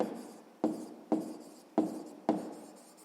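Pen or pencil writing on paper in a school exercise book, five distinct stroke bursts at a steady rhythm, close and quiet, with no voices.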